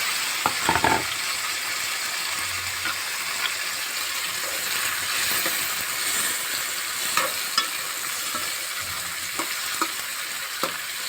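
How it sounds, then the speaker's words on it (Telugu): Chopped tomato hits onions frying in a pan for egg curry, a loud continuous sizzle with a few clatters of a spoon early on and light stirring knocks later, with no voices. "ఈ కట్ చేసి పెట్టుకున్న టమాటా అంతా వేస్తాము"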